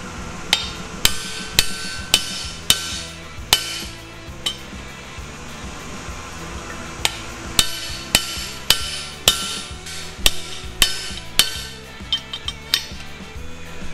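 Sharp, ringing hammer blows on metal, struck in irregular bursts of a few hits with short pauses between, close and clear over a quiet background.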